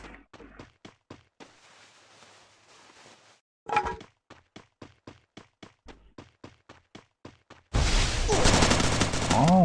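Gunfire in the mobile battle-royale game Free Fire: short rhythmic volleys of rapid shots, a louder blast near the middle, then a dense, loud burst of firing that fills the last couple of seconds.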